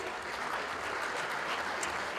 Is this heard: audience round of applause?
yes